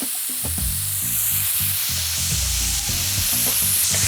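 Mushrooms, onion and parsley stalks fry in a pan with a loud, constant hissing sizzle, punctuated by the rhythmic knocks and scrapes of a utensil stirring them.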